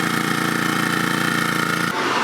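A generator runs on a Geo Pro 19FBS RV with the air-conditioning compressor off and the fan on, a steady loud mechanical drone that abruptly drops in pitch and intensity near the end.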